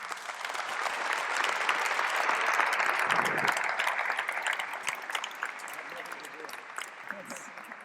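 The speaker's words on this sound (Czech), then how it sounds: "velký potlesk" Enthusiastic concert audience applause swells and fills the hall, sustained clapping that peaks midway and then gradually thins out near the end.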